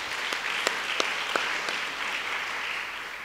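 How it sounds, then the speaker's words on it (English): An audience at a tutoring program's anniversary celebration applauds itself, a steady mass of clapping with a few sharper individual claps standing out near the start, then gradually easing. "give yourself a round of applause"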